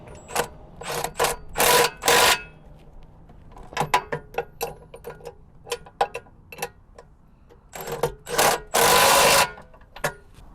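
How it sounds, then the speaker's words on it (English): Power tool tightening bolts on a Gen-Y Executive RV hitch, bursts of loud whirring and rattling impacts separated by clicks and pauses, close and without talking. "Let's tighten some bolts then."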